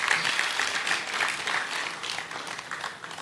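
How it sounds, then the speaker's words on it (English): An audience at a national mining dialogue event applauds a professor, producing steady, dense clapping that lasts throughout and tapers slightly at the end. "A round of applause for him, please."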